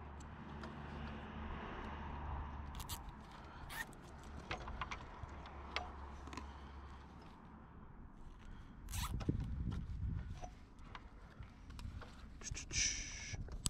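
A fibre optic cable closure is zipped shut outdoors in a series of short, close, raspy zips separated by pauses. Faint clicks, handling noise and a low background rumble are also present.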